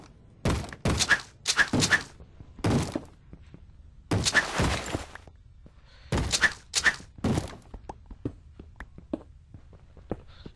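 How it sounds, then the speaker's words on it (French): A mob in the video game Minecraft bangs on a wooden door, delivering heavy thunks in clusters of two and three with short gaps between them, loud and close, with no one talking. "On essaye de casser ma porte."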